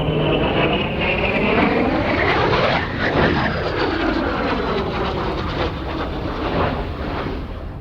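Alpha Jet trainer flying a display at an airshow, a loud, close roaring jet pass whose pitch sweeps down sharply as it goes by, then a sustained rumbling drone.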